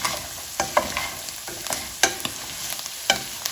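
Salt, cumin powder and black pepper being stirred into a frying vegetable korma with cashews, a few scraping spoon strokes over a low steady sizzle, close and moderately quiet.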